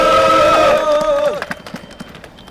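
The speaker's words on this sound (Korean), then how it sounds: "힘차게 발언해주신 나래야 대표님께 다시 한번 힘찬 박수 보내주시기 바랍니다" A speaker's amplified voice ends and then brief, sparse clapping follows from a crowd at an outdoor press conference held by construction union members, thinning out quickly.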